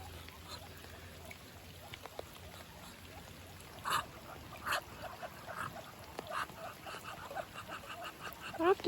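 Farm ducks in wet, muddy winter weather give a scattered series of faint quacks and honks, irregular calls over a quiet outdoor background.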